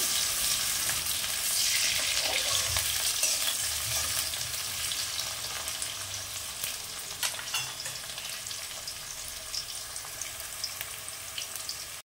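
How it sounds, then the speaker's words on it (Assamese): Onions sizzle and crackle steadily in hot oil, a continuous close frying hiss with occasional sharper pops, and no one talking. "পিয়াজখিনি অলপ ভাজিবলৈ দিম ধুনিয়াকৈ"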